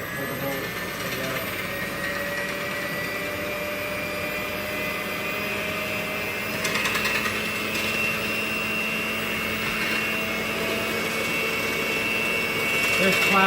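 An electric mixer whisks banana muffin batter in a home kitchen, a steady loud motor whir that holds constant with slight shifts in pitch, and a voice talking over it.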